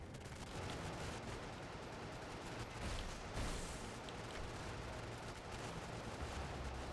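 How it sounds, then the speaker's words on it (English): A chemical projector weapon fires in the video game Brigador, producing a dense, continuous rumble of rapid bursts and blasts that stays steady and fairly loud throughout. "I think this is a different chemical projector weapon than we've used previously."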